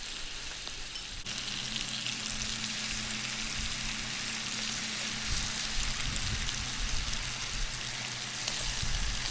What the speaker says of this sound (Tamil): இப்போது கொஞ்சமாக எண்ணெய் ஊற்றி எல்லாத்தையும் சேர்த்து பொரிச்சு எடுத்துக்கலாம்